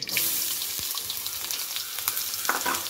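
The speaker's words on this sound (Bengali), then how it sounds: "এবার গরম তেলে প্রথমে দিয়ে দিচ্ছি পেঁয়াজ কুচি" Chopped onions hit hot oil in a pan, giving a bright, steady sizzle that crackles close by for a few seconds with scattered pops and stirring scrapes, no voices.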